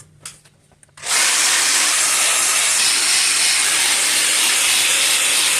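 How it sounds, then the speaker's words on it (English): An angle grinder fitted with a Benchmark Abrasives stripper disc bites into a dirty, rusty axle on a Ford, kicking in after a second of quiet and then roaring as a loud, steady, unbroken high whine. "I've got my grinder with my Benchmark Abrasives stripper disc"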